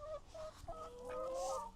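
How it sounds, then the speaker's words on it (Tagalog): A chicken clucks softly in a short run of quiet, throaty calls, faint and close. "Daddy gonna feed chooks"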